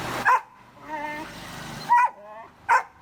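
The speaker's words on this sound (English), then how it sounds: "he's barking because he's locked in a room." A Belgian Malinois locked in a room barks in three sharp, loud bursts spaced across a few seconds, with a whining, yelping tone between them.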